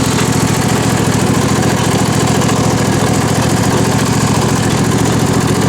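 A John Deere tractor with manual gearbox, built for private owners, runs loudly and close by with a constant rough, throbbing engine drone that holds steady without pause.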